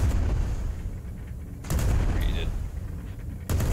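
Gunfire in the video game Worlds Adrift, a few sharp loud bursts and booms cutting through a dense rumbling battle bed, with players talking over the action.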